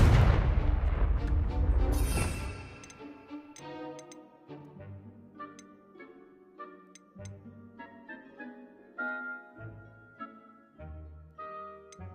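In the video game Hogwarts Legacy, a Confringo fire spell goes off as a loud, rumbling blast at the start. It fades into scattered ticking and crackling game effects and faint tonal sounds.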